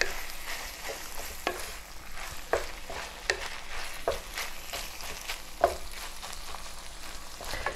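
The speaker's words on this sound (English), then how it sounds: "I'm going to go ahead and just mix that in and just coat the meat" Ground beef coated with flour is stirred in a frying pan, with steady sizzling and frying under repeated scraping strokes of the spoon, close and continuous with no talk.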